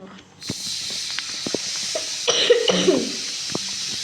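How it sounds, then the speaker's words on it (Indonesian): A single harsh cough rises over a steady background hiss, with faint movement sounds around it. "Maaf ya guys, aku batuk."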